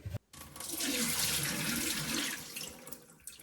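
Water poured out of the emptied tank of a Delonghi Magnifica Start coffee machine into a sink, a steady close splashing flow that starts after a brief pause and tails off near the end.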